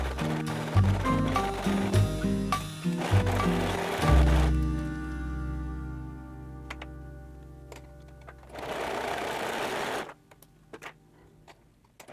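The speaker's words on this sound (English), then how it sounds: "Serge the outside of the neckline." A serger sewing machine runs along the neckline of a blouse in a steady, close mechanical whir for about four seconds, then slows with scattered ticks and another short burst of stitching.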